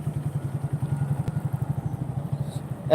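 A motorcycle ridden during a training lesson idles and chugs in a fast, regular pulse as the rider works the accelerator and clutch, fairly close and steady, with a short rise at the very end.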